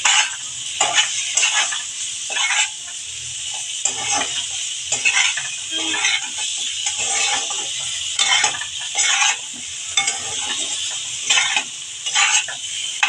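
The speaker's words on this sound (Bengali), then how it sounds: "আমি এবার আগে ফুলকপিগুলো দিয়ে দিচ্ছি একটু ফুলকপিগুলো ভেজে নিই মশলার সাথে" Cauliflower florets fry with spices in a pan for a vegetable-and-prawn dish, giving a steady close sizzle broken by repeated scraping stirs and clinks of utensil on metal, with no talking.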